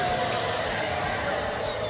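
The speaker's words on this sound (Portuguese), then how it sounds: "O aspirador deles é um barulho absurdo." A neighbouring household's vacuum cleaner drones steadily throughout, a constant whirring roar with a faint high whine and no pauses.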